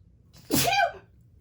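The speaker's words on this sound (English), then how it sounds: "I have to sneeze." A single sharp sneeze, close and loud, bursting out after a brief quiet and fading within half a second.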